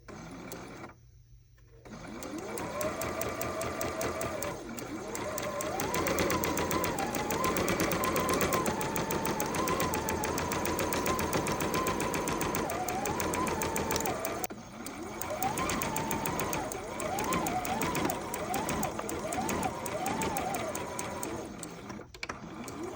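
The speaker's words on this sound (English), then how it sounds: "I'm going to stitch that along, basting it along the top, and then stitching it along this side here of the short." A sewing machine stitches and bastes a seam on a romper's shorts, its rapid mechanical whirr running in several long bursts with brief pauses between them.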